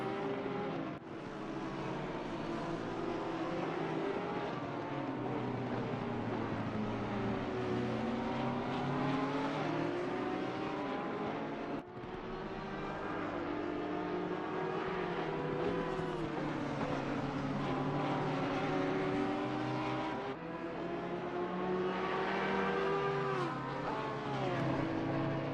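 Endurance race cars, an Audi and a Porsche, run at the Barcelona circuit in a twelve-hour race. Their engines drone loud and continuous, with the pitch rising and falling as they pass, and there is no talking.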